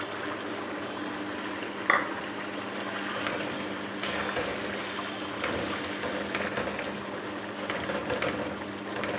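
Chicken karahi sizzles and crackles in hot oil with green chillies as the tomato juices cook off, a continuous, moderately loud frying hiss with occasional stirring scrapes and one sharp knock near the start.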